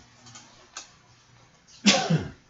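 A single sharp sneeze bursts out loudly near the end, after quieter breathy sounds and a small earlier exhale, in a quiet room setting.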